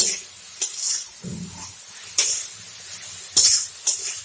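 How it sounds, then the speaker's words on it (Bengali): Cauliflower stalks fry with chili powder, cumin and turmeric in a pan. Short, sharp hissing scrapes come at intervals as the spices are stirred in, separated by quieter low sizzling. "আর একটু ভাজা ভাজা করব"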